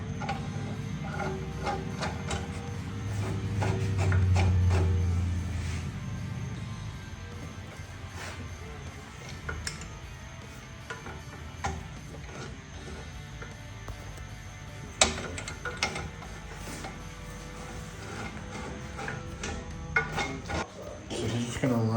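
Bolts being run down through the feet of a truck cooler and rod rack, giving a string of light metallic clicks and ratcheting taps over a low background hum, intermittent and fairly close.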